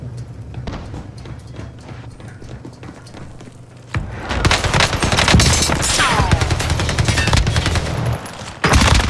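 Gunfire erupts in Call of Duty Warzone on Rebirth Island, starting with distant scattered shots and then turning into loud, close bursts of rapid automatic fire mixed with thuds and footsteps.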